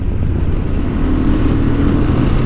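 A 2023 Honda Transalp 750 twin-cylinder motorcycle engine revs with a loud, close, steady roar that holds throughout without any voices.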